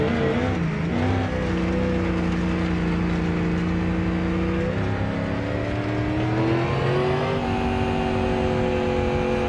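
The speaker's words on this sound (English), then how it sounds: "I love the way this car or this truck sounds" A car or truck engine in BeamNG.drive revs steadily and loud, its droning tone sliding up and down through gears with a sustained whirring pitch rising near the end.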